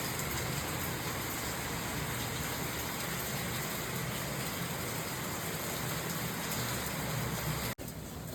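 Steady light rain hisses evenly and continuously throughout a fishing outing, a constant wash of noise with no voices, dropping out briefly near the end.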